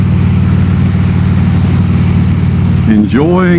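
Harley-Davidson Road King motorcycle cruising on the road, a steady low engine drone throughout, with someone talking over it.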